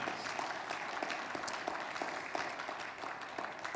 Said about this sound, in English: Give the Lord a good hand clap this morning.